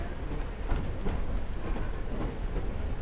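Narrow gauge train on the Durango to Silverton railroad rumbles along with a continuous low roar and a few rhythmic wheel clicks over rail joints, close and steady.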